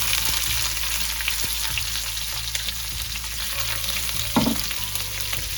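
Urad dal and onions frying in a pan for a vegan pumpkin curry, a steady close sizzle with occasional scrapes and clinks of stirring, no voices.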